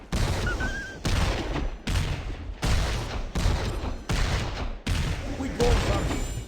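Rapid gunfire bursts from a dwarf character in the Heroes of Newerth video game, loud and close, coming in repeated volleys separated by brief silent gaps.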